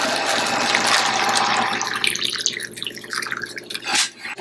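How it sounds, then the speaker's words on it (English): Hot, just-boiled water is poured into a plastic container, a steady loud splashing pour that thins into gurgling trickles and drips toward the end. "I'm going to fill this with hot water, really boiling water"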